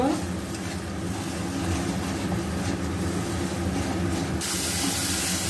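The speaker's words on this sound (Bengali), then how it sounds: "এবার মশলাটা ভালো করে কষিয়ে নেব।" A spice paste of chili powder with a splash of water fries hard in a pan, giving a dense, loud, steady sizzle and hiss with stirring scrapes, close up and unbroken throughout.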